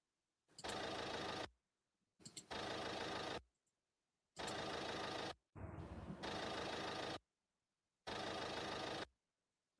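Car engines in a racing video game, in four loud bursts of buzzing engine sound separated by short silences, each lasting about a second.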